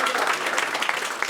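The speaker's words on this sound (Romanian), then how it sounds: "Ok, aplauze pentru domnișoara" An audience applauds, a burst of steady clapping with some voices mixed in.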